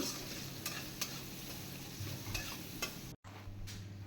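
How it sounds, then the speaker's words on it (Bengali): Thinly sliced onions fry in a pan for a Bengali hilsa fish curry, a steady sizzle broken by a few sharp scrapes of stirring and a brief dropout near the end. "পেঁয়াজটাকে এবার ভালো করে ভেজে নেব"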